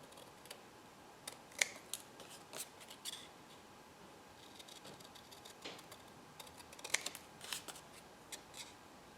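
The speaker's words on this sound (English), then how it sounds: "And I'm using the scissors, and I'm not the best with scissors," Scissors snip and trim paper for a journal in faint, irregular clusters of crisp clicks and cuts, scattered sparsely across a quiet background with no talk.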